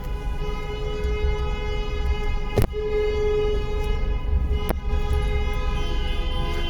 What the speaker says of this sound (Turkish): Ben de kornaya bastım.